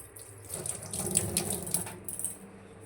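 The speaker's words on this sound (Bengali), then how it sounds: "দাঁড়াও হাতটা ধুয়ে নিই" A kitchen tap runs as someone washes their hands, a close, splashing stream of water with bright droplet patter that swells and fades over a few seconds, with no talking.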